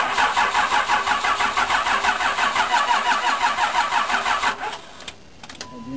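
Engine cold starting after sitting unplugged for several days: the starter cranks in a fast rhythmic churn for over four seconds, then the motor catches and settles into a low idle, loud and close.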